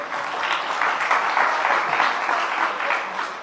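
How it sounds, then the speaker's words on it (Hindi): An audience breaks into steady, dense applause at a religious gathering, many hands clapping together at an even level throughout with no voices over it. "जरा तालियां बजा दीजिए।"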